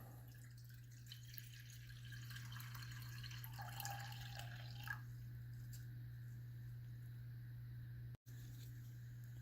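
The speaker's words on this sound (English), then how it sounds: "I'm going to add 1½ cups of water." Water trickles into a small pot for a few seconds, a faint splashing pour over a steady low electrical hum in a quiet kitchen.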